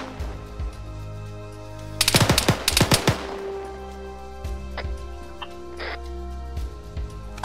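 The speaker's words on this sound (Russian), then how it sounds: "кто из пулемета колотит из-под меня?" Machine gun fire in the military shooter game Arma 3: a dense cluster of loud rapid bursts lasting about a second, then scattered fainter shots and clicks over steady ambient background, with no talking.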